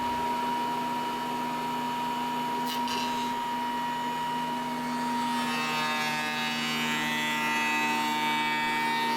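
A jointer planes the edge of a wooden board for a desk build, a loud steady machine whine with cutter hiss that swells brighter and denser partway through as the knives take a fuller cut.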